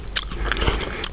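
Close crunchy bites and chewing of Cinnamon Toast Crunch cereal soaked in milk, several crisp crackling bursts in quick succession with a soft wet squish beneath, no talking.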